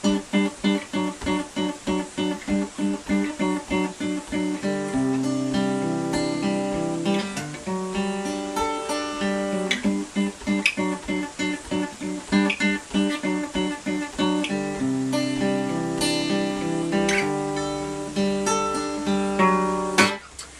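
Guitar verse of a song played through: rhythmic two-string power chords leading into a ringing picked section, steady and close with no voices.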